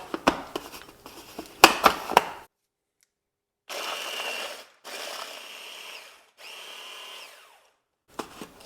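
A blender crushes biscuits seasoned with a pinch of fleur de sel for a tart base, preceded by a few clinks, then three loud whirring bursts separated by short silences, close and with no talk.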